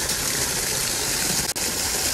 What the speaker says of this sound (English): the sound of the water falling down on the pond